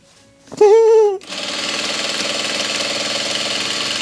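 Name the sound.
sewing machine straight stitching satin bonnet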